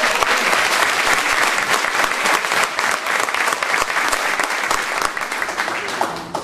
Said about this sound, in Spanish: ¿Me pueden dar un aplauso?